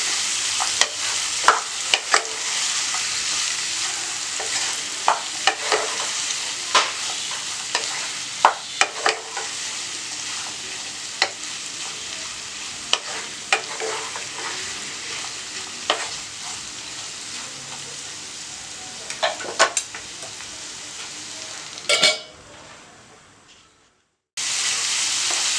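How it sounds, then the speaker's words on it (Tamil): Tomatoes and a piece of coconut sautéing in a pan for chicken salna, a steady sizzle broken by frequent scraping and stirring clicks, close and fairly loud, ending in a brief quiet gap. "தக்காளி வதங்குற வரைக்கும் நம்ம வதக்கிடலாம்."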